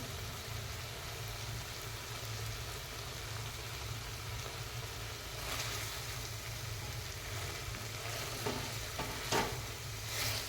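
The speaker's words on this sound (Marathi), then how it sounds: "मिक्स करून घ्या व्यवस्थित व्यवस्थित मिक्स झालं" Chicken masala being stirred in a pan after salt is added: soft scraping and gentle sizzling, close and steady, with a few louder scrapes toward the end.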